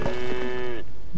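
A cow in the farming video game Farm Together gives a single loud, drawn-out moo that ends abruptly, close and clear.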